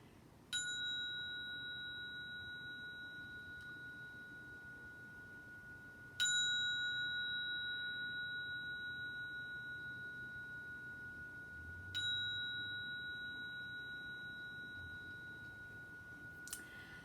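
A small bell is struck three times, about six seconds apart, each bright ding ringing out clearly and decaying slowly into quiet.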